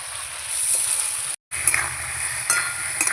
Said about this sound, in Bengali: এখানে এক চামচ লঙ্কা গুঁড়ো আছে দিয়ে দিচ্ছি এবার আমি ভালো করে নেড়ে নেবো